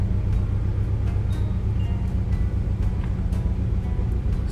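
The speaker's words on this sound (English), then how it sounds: "running like a beefy V6, even though it's a straight 4 with 9 horsepower at this point" A 1990 Volkswagen Vanagon Carat's straight-four engine idling, a loud, steady, low rumbling drone close by, continuous throughout with no talk.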